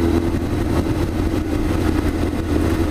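A motorcycle engine idles steadily in neutral with a constant low rumble throughout, close and loud, and no talk.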